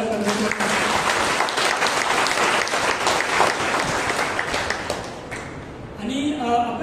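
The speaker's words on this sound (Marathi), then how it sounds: "त्या गोष्टीसाठी एक जोरदार टाळ्या करायची." A congregation at a Monday church prayer meeting breaks into loud, dense, sustained applause for about six seconds, then the clapping drops away as a voice begins speaking.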